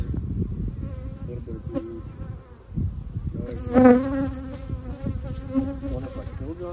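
Honey bees buzz around an open hive during a late summer split inspection, a steady close insect drone that swells as bees pass near, with a person speaking briefly over it.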